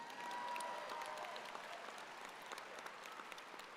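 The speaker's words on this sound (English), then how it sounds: "Could we have another round of applause, please?" A large audience claps steadily at a university convocation ceremony, a dense, continuous wash of applause filling the hall without any talk.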